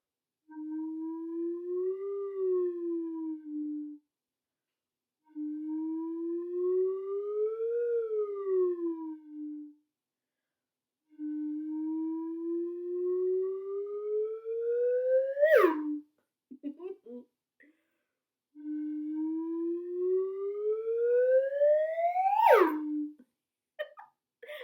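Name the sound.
slide whistle going low to high to low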